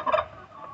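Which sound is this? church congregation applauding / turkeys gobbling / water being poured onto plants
turkeys gobbling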